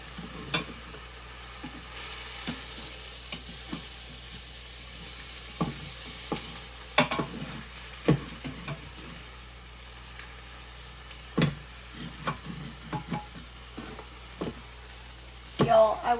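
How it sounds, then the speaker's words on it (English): Eggs cooking in an Instant Pot are stirred, soft scraping and clicking of a utensil over a low steady sizzle, intermittent and close. "once the eggs begin to cook, mix everything together"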